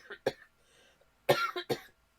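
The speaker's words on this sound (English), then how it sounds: "Oh, sorry about coughing." A woman coughs several times in short bursts, close and fairly loud, with brief gaps of quiet between them.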